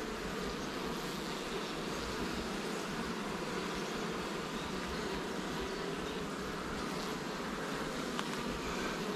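Honey bees at a beehive give a faint, even buzzing drone that never breaks, with soft background hum and no talking.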